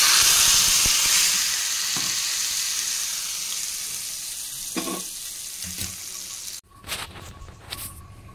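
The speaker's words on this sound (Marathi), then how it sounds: "तर टोमॅटोच्या चटणीमध्ये फोडणी घालू।" Hot tempering with cumin and asafoetida is poured into green tomato chutney, giving a loud, close sizzle that slowly fades, then a few clinks and scrapes of utensils.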